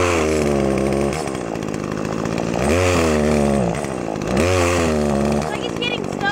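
A chainsaw revs hard while cutting into wood, its engine pitch rising and falling as it bogs and surges, with voices talking over the steady motor.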